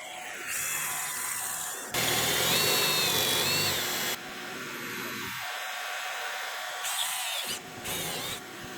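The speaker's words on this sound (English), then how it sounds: "Okay, I'm going to put screws in the 21-inch side. This is going to screw it to the sides." A power drill drives 1.25-inch screws into a board while building a roll-around tool stand, heard as several separate loud whirring bursts with short pauses between them.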